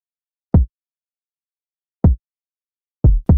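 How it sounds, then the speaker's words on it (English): Kick drum hits in an R&B beat, four deep isolated thumps spaced irregularly across a few seconds, punchy and dry with silence between, no other instruments or talk. "so I essentially just added this kick pattern"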